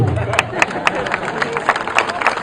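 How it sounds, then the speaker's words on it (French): Guests applauding at a reenacted wedding ceremony in Marlenheim, a sparse scattering of individual claps with crowd murmur beneath, fairly close and irregular in rhythm. "On peut applaudir."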